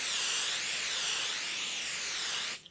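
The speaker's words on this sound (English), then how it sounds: "shake up my sticky stuff, give it a little spray," Basting adhesive sprays from an aerosol can onto quilt cotton fabric in one continuous, close hiss lasting about two and a half seconds, then it cuts off.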